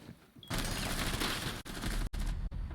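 Rapid gunfire in the arena shooter Reflex during a championship match, a dense and loud burst of fire that keeps going for about two seconds with brief breaks.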